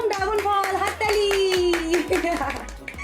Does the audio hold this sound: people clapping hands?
yes